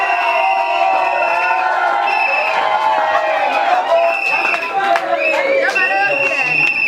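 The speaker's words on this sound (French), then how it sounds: "Est-ce que tu peux applaudir pour la sœur?" A wedding crowd claps, cheers and whoops for the bride's sister, loud and continuous close by, with children's shouts and overlapping voices mixed into the noise.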